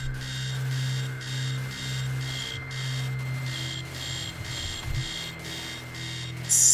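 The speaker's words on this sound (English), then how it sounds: "Sound of the alarm clock blaring." An alarm clock blares in a choose-your-own-adventure game, a loud steady electronic beeping in regular pulses that keeps repeating over a low hum.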